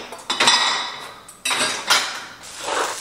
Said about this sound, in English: I'm gonna get some dishes in the dishwasher.